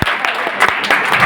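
An audience at a Hindi comedy poetry recital applauds steadily with dense, continuous clapping, loud and close throughout the short burst.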